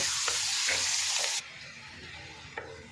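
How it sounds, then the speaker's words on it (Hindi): Onion with ginger-garlic paste frying in a pan, a steady close sizzle that drops in level partway through, with a few brief stirring scrapes and no talking. "प्याज सॉफ्ट होगा तो इसमें 1 चम्मच लहसुन अदरक का पेस्ट ऐड करेंगे और इसको थोड़ा सा भूनेंगे"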